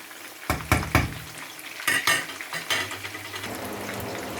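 Eggplant slices fry in oil in a pan for baingan masala, a steady close sizzle broken by several clinks and scrapes of a utensil against the pan, with no speech.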